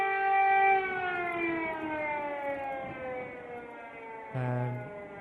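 A loud wailing air raid siren in Kyiv, Ukraine, its tone slowly sliding downward before a brief jump in pitch, sounding alone and fairly close.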